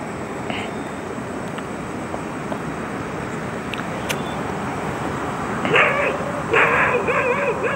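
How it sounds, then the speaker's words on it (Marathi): A dog barks outdoors at night beside a farm pond where small fish are being caught, with a couple of short bark bursts near the end over a constant background hum. "तिकडे डॉग ही आहे ना आमच्या, भुकतो बघा तुम्हाला दिसत असेल"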